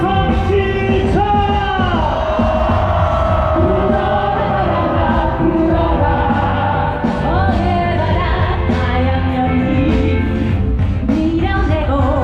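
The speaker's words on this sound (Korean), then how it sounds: "힘찬 탄핵의 함성 시작!" A large crowd at a candlelight impeachment rally shouts and cheers together, a loud sustained roar of many voices filling the space throughout.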